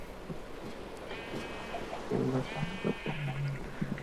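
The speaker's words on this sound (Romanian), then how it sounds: "a început ploaia" Rain begins in Minecraft as a soft, steady wash of hiss, with sheep bleats and short in-game tones over it, fairly faint overall.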